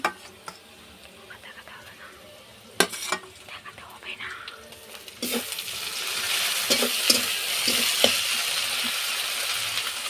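Quiet stirring and a few utensil clicks, then a sudden loud, steady sizzle as ginger-garlic paste hits hot oil with browned onions, with occasional scraping in the pan.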